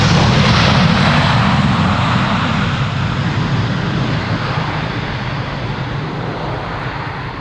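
An airliner coming in to land in a crosswind at Amsterdam Schiphol Airport gives a loud, broad engine roar close by that slowly fades as it passes, steady with no talk.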